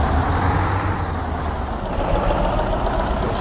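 A MAZ 504 B truck engine in Euro Truck Simulator 2 rumbles in a steady, loud, deep drone that stays constant throughout, with no talk.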